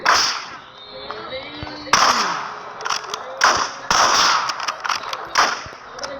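Sniper rifle shots in the Sniper Duels video game, several sharp cracking reports spaced a second or so apart, each with a short ringing tail, under excited talk.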